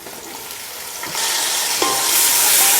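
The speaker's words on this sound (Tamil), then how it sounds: "அதே போல் தக்காளியும் சேர்த்து நல்லா மசிய வதக்கிடுங்க." Onions and tomatoes sauté in a hot pan for mushroom biryani, a loud, close, steady sizzle that swells partway through as more goes in, with faint stirring scrapes and no speech.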